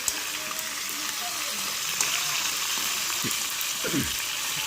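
Steady, close sizzling of spices frying in hot oil for olive pickle, a constant hiss with a few soft bubbling pops.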